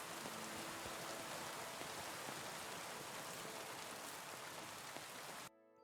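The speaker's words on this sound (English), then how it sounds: "It sounds like, oh my God, it's raining." Steady, dense rain pours down in a medieval open-world game outdoors near a city, a loud continuous hiss of drops that cuts off abruptly just before the end.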